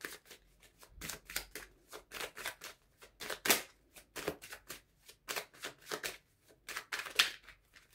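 Tarot cards being shuffled and drawn, a series of crisp riffling bursts and quick slaps in an uneven rhythm, close-up and loud against near silence, no speech.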